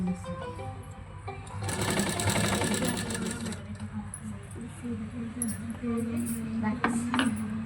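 A sewing machine stitches a baby frock, its fast mechanical whirr running steadily through the middle and fading out, with someone talking over it.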